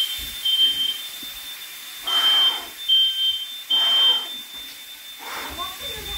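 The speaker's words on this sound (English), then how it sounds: "Oh, that smoke alarm." A smoke alarm chirps in short, high beeps, several bursts with gaps between them, while people talk and move around nearby.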